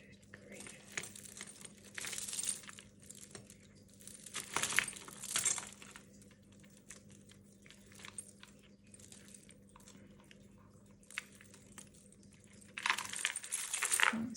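Gold jewellery chains, including a 9-carat chain, are handled and clink in several bursts of light metallic jingling, with quiet gaps between them and a soft steady hum underneath.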